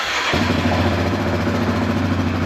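A Yamaha Kodiak 700 ATV engine catches after a brief crank and settles straight into a steady, close, throbbing idle that carries on without interruption.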